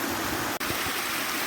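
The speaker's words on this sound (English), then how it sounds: "here it is, a series of 3 cascades and then a roughly 30-foot waterfall" A series of three cascades and a roughly 30-foot waterfall on Diggle Brook in the Peak District make a loud, continuous rushing roar. It is broken only by a brief dropout partway through, with no voices.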